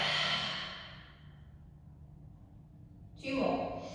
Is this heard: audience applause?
no